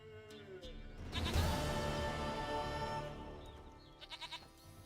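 A goat bleats in The Witcher video game: one drawn-out, wavering bleat up close, then a quick run of short quavering bleats near the end, with no talking.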